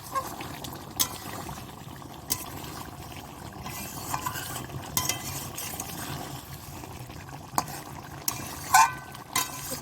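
A spoon stirs a rohu fish kalia curry in a pot, with soft scraping and occasional sharp clinks against the metal over a low, bubbling background.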